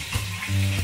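Garlic and spices crackle and sizzle in hot oil while a Telugu-style taro root tamarind stew (chema dumpala pulusu) is being prepared, with a steady close frying hiss and a low hum underneath and no talk.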